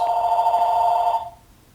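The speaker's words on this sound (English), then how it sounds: "the phone is ringing" A telephone rings with a single steady electronic tone that lasts about a second, then cuts off and fades to near silence.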